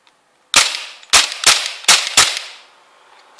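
Tokyo Marui MP7 gas blowback airsoft gun fires five sharp, loud single shots in an uneven rhythm, each a crisp crack with a short mechanical tail, close by and alone.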